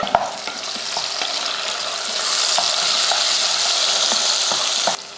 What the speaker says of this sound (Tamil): இது கூட ஒரு தக்காளியும் போட்டு வதக்கிடலாம்.